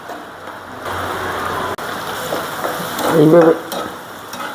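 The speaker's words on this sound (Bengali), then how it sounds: "পেঁয়াজ কাঁচামরিচ দিয়ে প্রথম আমি চিংড়ি মাছটা একটু কষাই নেব" Shrimp sizzles in a pan with onion and green chili, a steady frying hiss broken by stirring scrapes that grow louder, and a voice speaks briefly.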